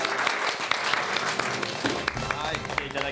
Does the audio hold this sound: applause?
yes